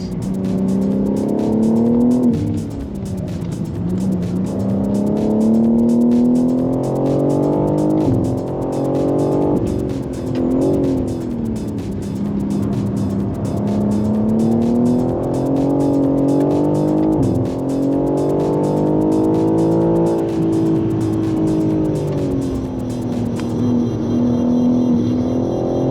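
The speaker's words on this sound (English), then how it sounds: "we're hitting the course here. See if I don't spin the car out." A bone-stock rental car pushed hard around a road course makes a loud, continuous engine whine that climbs and falls with repeated revving and gear changes, with tire squeal mixed in.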